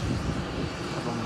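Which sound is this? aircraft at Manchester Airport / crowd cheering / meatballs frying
aircraft at Manchester Airport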